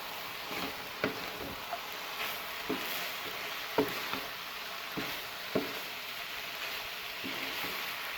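Eggs fry in a pan alongside vegetables for restaurant-style chicken fried rice, a constant sizzle broken by irregular spatula scrapes and knocks, close and unaccompanied by speech.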